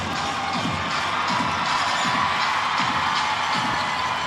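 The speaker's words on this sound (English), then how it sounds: "The away section cheering louder" Away-section fans cheer behind the Taipei Fubon Braves bench at a professional basketball game against the Taoyuan Pauian Pilots, a dense, steady arena roar with faint rhythmic clapping and scattered whoops.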